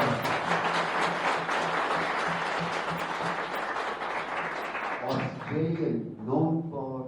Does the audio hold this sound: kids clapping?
yes